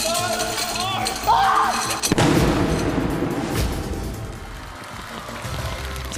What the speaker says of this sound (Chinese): 倒数到0秒的时候，炸弹就会爆炸